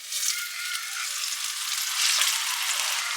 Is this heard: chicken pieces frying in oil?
yes